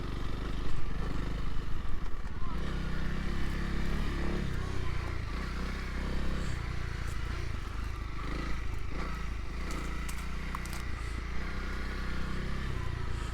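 A Honda CRF300L motorcycle cruises along at an easy pace, its engine a steady low drone with mild rise and fall under wind rush, fairly faint and continuous.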